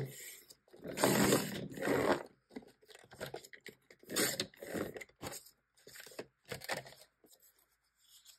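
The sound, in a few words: cutting paper for a junk journal pocket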